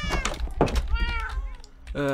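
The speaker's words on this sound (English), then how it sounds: "The cat cafe got a big upgrade. Maybe a bit too many cats, but I like it." Cats in a cat cafe in a city-building video game let out several short meows in quick succession, some higher and whiny, over a busy, cluttered background.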